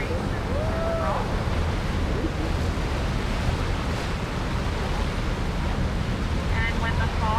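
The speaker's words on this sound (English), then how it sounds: "you may see the water sort of in turmoil. There's some waves around here." Turbulent water and waves churn around Race Rocks off Vancouver Island, a constant loud wash with wind buffeting the microphone and faint squealing tones on a whale watching boat.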